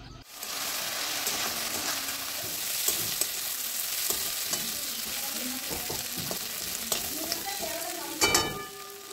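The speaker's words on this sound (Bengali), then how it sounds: "তো চিংড়ি মাছগুলো বেশ লাল করে আমি ভেজে নিচ্ছি।" Small shrimp fry with turmeric and salt in a wok, giving a loud, constant sizzle with scattered spatula scrapes and a sharper clatter near the end, close up.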